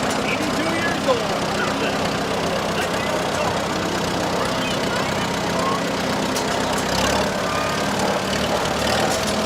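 An 82-year-old tractor, once the biggest around, runs at a small-town dairy days parade: a continuous low, rough engine drone with steady loudness, heard amid outdoor crowd ambience and a voice on a loudspeaker.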